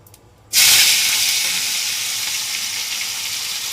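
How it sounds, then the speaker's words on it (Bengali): Dried fish (shutki) drops into hot oil and bursts into a loud, steady sizzle that then settles into a continuous frying hiss. "আর তুমি আগে শুটকি মাছটা ভাজবে"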